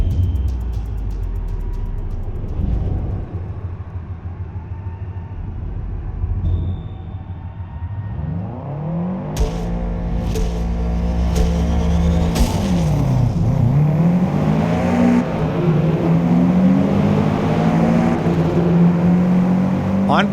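A Subaru race car's engine revs and accelerates around the Kyalami circuit in Forza Motorsport, a loud, continuous rising and falling engine drone with gear-shift dips, growing fuller and louder toward the end.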